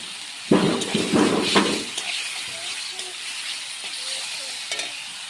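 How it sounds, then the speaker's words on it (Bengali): Tomatoes dropped into a hot pan of a vegetarian dish, a burst of loud sizzling and stirring scrapes for about a second and a half, then a quieter steady fry with faint clinks. "এখন দিয়ে দেবো টমেটো।"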